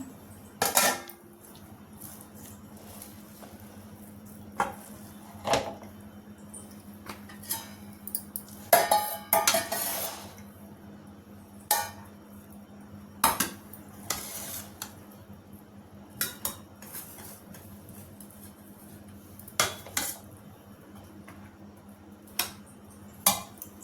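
Steel lunch boxes, dishes and cutlery clatter and clink in scattered sharp knocks while school lunch boxes of mint rice are packed, over a quiet kitchen hum.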